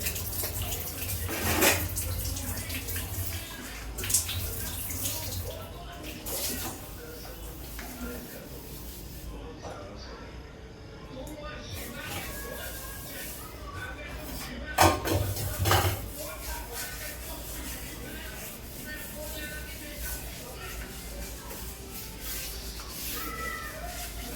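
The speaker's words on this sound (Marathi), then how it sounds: "रात्रीच्या रात्री मी ना किचन स्वच्छ करून घेते" Dishes are washed and a kitchen is cleaned at night, with running water, rubbing and occasional clinks of pots throughout, under intermittent talk.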